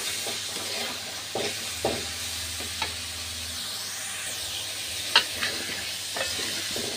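Potatoes fry in a pan with chili, turmeric and cumin powders and salt. A continuous close sizzle and hiss dominates, broken only occasionally by a light scrape or tap of the spoon.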